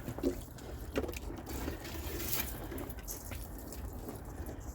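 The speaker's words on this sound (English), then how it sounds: "And then I'm gonna water my lemon verbena." Water poured onto a potted lemon verbena inside a polytunnel, a soft continuous trickle and splash into soil, fairly quiet and close, with no talking.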